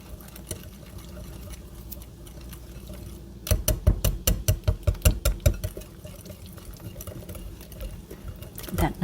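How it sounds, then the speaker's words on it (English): A whisk beats Dutch baby batter with nutmeg in a bowl, a run of quick sharp clacks and taps in the middle, with quieter stirring before and after. "So now I'm just going to whisk this until it becomes a nice smooth batter."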